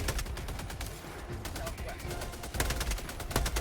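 Heavy machine gun fire in Helldivers 2 rattles as a dense, loud burst, probably joined by other gunfire in a battle against the Illuminate. Speech is faint under it.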